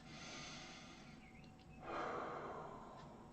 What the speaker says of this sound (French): j'inspire par le nez, même si c'est un peu fort, un peu bruyant.